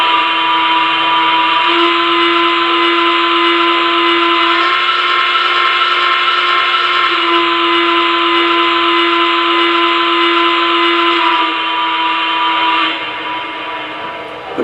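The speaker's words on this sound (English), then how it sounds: "I'm going to go ahead and blow the whistle for you so you can hear all three levels of the quillable whistle." Quillable whistle on an American Flyer Y3 model locomotive, a continuous steady steam-style whistle held for about thirteen seconds with small shifts in pitch, loud and close, alone without talk, fading slightly at the end.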